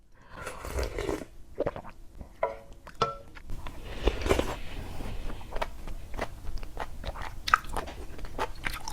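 Close chewing on chewy Gohyang mandu dumplings, with soft wet bites and mouth sounds in an irregular rhythm, plus a few light clinks of dishes in the background.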